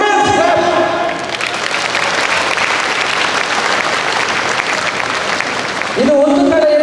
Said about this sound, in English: Students, clap.